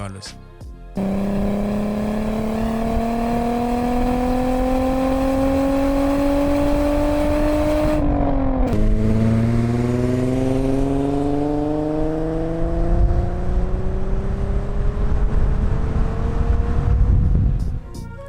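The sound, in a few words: VW VR6 engine revving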